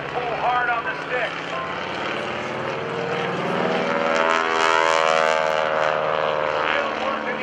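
Loud aerobatic propeller plane engine at a naval air station airshow, droning steadily while the pilot rolls through a Cuban 8 and loop, with the pitch sweeping as it passes, under an announcer's commentary.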